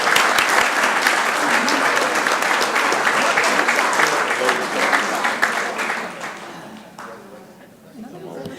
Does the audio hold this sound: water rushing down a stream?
no